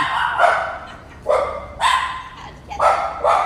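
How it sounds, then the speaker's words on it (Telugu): Several dogs bark in loud, close bursts at a church compound in Rajahmundry, about five sharp barks in quick succession with short pauses between. "ఏంటమ్మా నీ కుక్కలు అరిచేస్తున్నాయి?"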